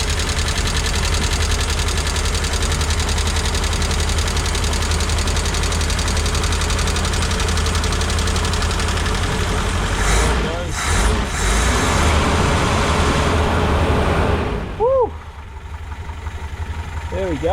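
A rebuilt Toyota 4Y engine runs at a steady idle close by, a continuous loud drone with lifter ticking; a few brief disturbances and sweeping tones appear near the end.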